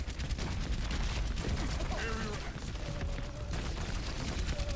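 Pistol fire in the video game Overwatch, a steady stream of rapid shots blended into busy game noise with chiming effects, fairly quiet, with a voice talking faintly under the action.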